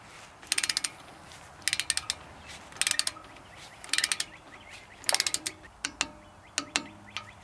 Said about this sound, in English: we'll go ahead and torque this down 20 foot-pounds